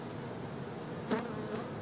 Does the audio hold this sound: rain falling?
no